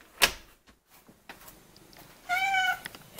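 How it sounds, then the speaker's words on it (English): A cat gives one clear, drawn-out meow close by after a sharp knock or tap at the start, with quiet background in between. "Guys, there's a cat right here."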